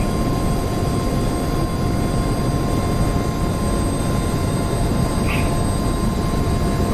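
Helicopter engines spin up in DCS World's Marianas Islands map, with UH-60L and AH-64D choppers present, a steady loud turbine whine and rotor rumble droning evenly throughout with a faint brief chirp midway.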